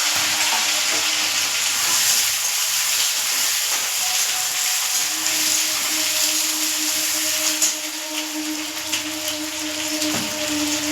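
Okra and potatoes fry in a pan with a steady, dense sizzle that runs unbroken and close throughout, with faint stirring scrapes beneath.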